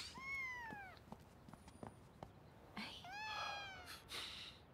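A cat gives two clear, drawn-out meows a couple of seconds apart, close and fairly soft, with light handling noises and brief clicks between them in a quiet room.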